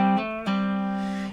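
Electric guitar intro lick for a song: a sustained note, then a hammer-on and pull-off, each articulation marked by a soft attack before the tone rings on, played alone.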